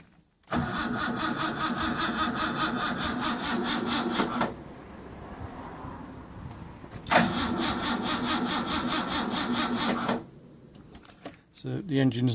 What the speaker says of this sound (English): I'll just quickly show you that it turns over